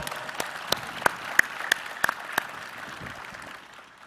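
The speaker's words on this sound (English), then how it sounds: "Y'all give him a round of applause." A live audience claps in a round of applause at a fireside chat event with Master P and the Rap Snacks CEO, steady clapping with a few sharp near claps, fading out toward the end.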